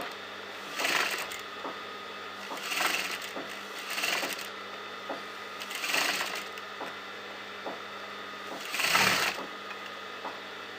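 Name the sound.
sewing machine sewing around the neckline margin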